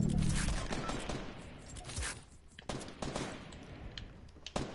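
Rapid gunfire bursts from a battle-royale style video game, with shotgun and assault-rifle fire crackling continuously under dense game noise and sharp shot peaks near the end.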